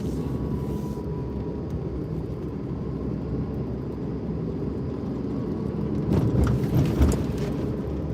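A car drives along with a steady low engine and road rumble heard from inside, swelling briefly louder near the end, with no talking.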